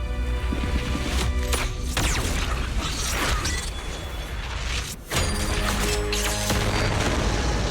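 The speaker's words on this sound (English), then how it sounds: "Explosion." A big explosion in the video game Zenless Zone Zero, a loud dense blast with crashing debris and rumbling mechanisms that holds for several seconds, dips briefly to near silence, then surges back.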